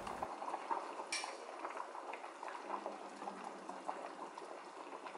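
A pot of water with washed, boiled meat for bone broth bubbles at a steady boil, a soft continuous burble with one faint metallic tap near the start.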